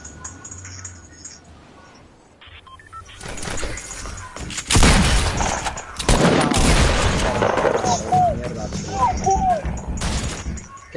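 Rapid gunfire in the Fortnite video game, dense bursts of automatic shots and crashes that swell loud and continue for several seconds, with a player talking excitedly over it.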